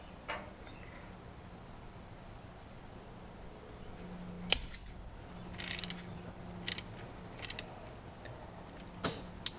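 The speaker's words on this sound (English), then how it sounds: "next loosen up the drain plug." A faint ratchet click and a few light metallic taps and creaks come as a wrench loosens the rear differential drain plug on a Lexus GS350, quiet and sparse over low background hum.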